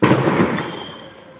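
A loud, dense burst of firecrackers crackling at once, sharp at the start and fading over about a second with a rattling tail.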